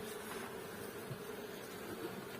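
Honey bees hum steadily around a calm hive at an apiary during a spring colony inspection, a continuous close buzzing with no pauses and no talk.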